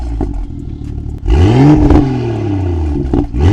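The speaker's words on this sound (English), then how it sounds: "let's get a quick start up. I'll show you what it sounds like in comfort, sport, and sport plus mode." A BMW M2 F87 with a Dinan resonator delete fires up in comfort mode: a starter crank, then a loud rising flare of exhaust revs that settles into a steady, deep idle rumble close by.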